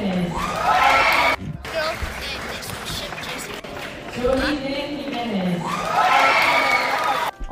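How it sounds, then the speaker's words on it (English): A graduation crowd cheers, shouts and whoops loudly across the whole stretch, with children shouting and brief applause mixed in, swelling near the start and again toward the end. "you heard the cheering"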